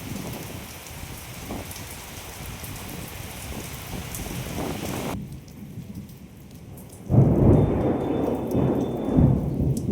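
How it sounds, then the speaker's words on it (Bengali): Steady rain falls with deep rolling thunder, the downpour hissing close and continuous while a heavy low rumble swells and grows louder toward the end. "মেঘ যা ডাকছে।"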